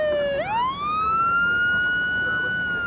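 Ambulance siren wailing close by, dipping briefly then rising into a long sustained tone over faint traffic rumble.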